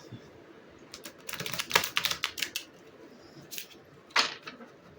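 Rapid papery riffling and soft clicks of tarot cards being shuffled, in two bursts separated by a quiet pause, fairly close and moderately loud.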